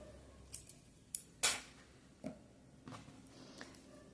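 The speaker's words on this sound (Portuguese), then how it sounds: "Vou cortar este fio." Scissors snip through yarn during a crochet project, a few sharp close clicks and one crisper cutting snip, separated by quiet pauses, with no voice.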